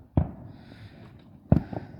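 Two sharp fireworks bursts at a July 4th evening display, heard from a distance as separate booming pops about a second apart with brief rumbling tails.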